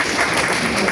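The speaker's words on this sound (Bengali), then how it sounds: "সবাই একটা জোরে হাততালি দিব" Audience at a physics department freshers' welcome ceremony bursts into a loud, dense round of clapping, close and continuous for about a second.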